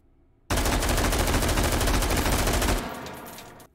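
An AR-18C rifle fired without a muzzle brake in the H3VR shooting game lets off a loud, continuous burst of rapid automatic fire lasting about two seconds, then cuts off into a fading echo.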